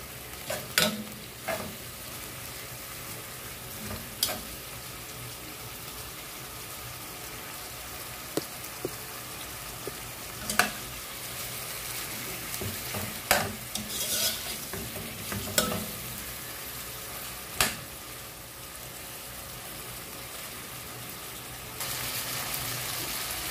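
Native chicken with lemongrass is stir-fried in a pan, giving a quiet continuous sizzle broken by scattered sharp scrapes and taps of the utensil throughout.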